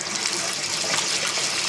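Compressed air forces water out of a bathroom sink faucet line with the aerator removed. It makes a loud, continuous hissing gush of sputtering water and air that carries on without a break for the whole moment.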